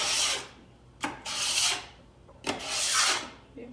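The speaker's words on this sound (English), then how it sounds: "This is a bench scraper, but we also use it on our griddle all the time." A metal bench scraper scrapes across a griddle in three long, rasping strokes, each swelling then fading, close and clear with no talking.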